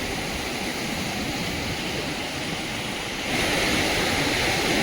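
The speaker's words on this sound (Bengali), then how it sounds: "জল পুরো আছড়ে পড়ছে" Continuous roar of ocean waves crashing against rocks nearby at Bandstand, Mumbai, a dense rushing wash that swells louder toward the end.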